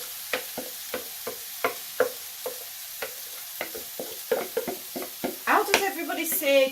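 Tomatoes going into a pan of frying onions, garlic and ginger give soft sizzling with a run of light stirring taps and scrapes, then a voice speaks briefly over the pan near the end.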